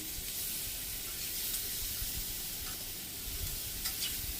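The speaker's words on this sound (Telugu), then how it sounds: "తగినంత ఆయిల్ వేసుకోవాలి, చికెన్ ముక్కల్ని దీంట్లోకి వేసుకోవాలి." Chicken pieces for a curry fry in oil in a pan, giving a steady, fairly quiet sizzling hiss with occasional faint crackles and light stirring noises.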